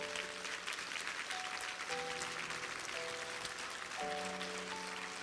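A church congregation claps continuously in a dense, even wash of applause during a sermon while soft sustained keyboard chords play underneath.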